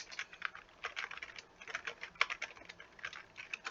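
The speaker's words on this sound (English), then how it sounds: "Oh, I'm typing horrible." Quick bursts of keyboard typing, close and fairly quiet, with clicks coming in irregular clusters and short pauses between.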